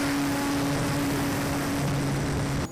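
A Cherokee 1.3m RC model airplane runs at full throttle, its propeller giving a steady, loud whine with a constant engine drone, cutting off abruptly just before the end.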